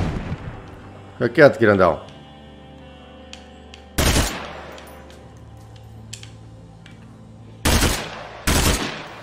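Gunfire in the zombie survival game State of Decay 2: two sharp, loud bursts of shots spaced apart, with a player's voice talking over quieter stretches between them.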